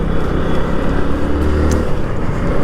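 Hero HF Deluxe BS6 2024 Black Edition motorcycle engine pulling hard under acceleration, a steady loud drone with low rumble throughout, recorded from the moving bike with road and wind noise.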